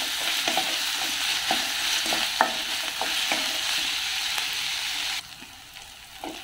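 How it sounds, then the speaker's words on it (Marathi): Tomatoes fry in a small amount of oil in a pan on a gas flame, a steady close sizzle broken by repeated scraping and clicking stirs, with no talk. "आता टोमॅटो मऊ होईपर्यंत आपण शिजवून घेऊया."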